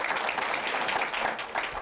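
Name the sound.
audience applause for the panelists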